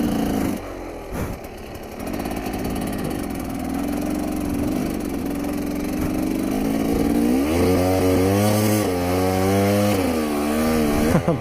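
A KTM motorcycle engine revs on a beach, a loud buzzing drone held steady and then climbing through rising and falling pitch sweeps as the throttle opens, close to the microphone with no talk.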